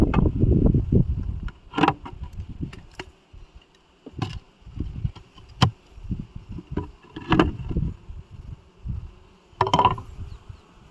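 Bees buzz steadily around a hive at an abandoned apiary, a high drone hovering near and far, broken by occasional wooden knocks and thuds of frames being handled close by.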